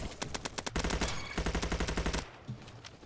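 Automatic gun fire in the Roblox game Bad Business: several fast bursts of loud, close shots with short pauses between them, ending in quieter scattered noise, no talk over it.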